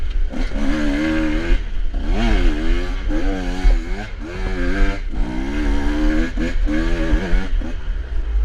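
A 2024 KTM 125 XC-W two-stroke enduro motorcycle is ridden hard nearby, its engine repeatedly revving up and dropping back in quick, rising-and-falling bursts over a constant low rumble of wind and motion, with no talking.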